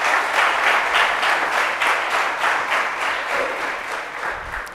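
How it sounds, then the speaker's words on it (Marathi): An audience claps energetically for the performers at a cultural programme, with loud, full applause that pulses in a faintly rhythmic way and tapers off slightly toward the end. "या सर्व कलाकारांसाठी एकदा जोरदार टाळ्यांचा गजर"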